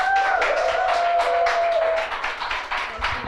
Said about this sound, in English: Ladies and the few gentlemen in the house, please a round of applause